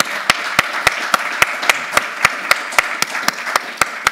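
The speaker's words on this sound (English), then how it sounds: "A warm round of applause for Tamas." Clapping at a conference talk session, sharp evenly spaced claps in a steady quick rhythm over a soft background hum, sounding like a few people clapping in unison rather than a full crowd.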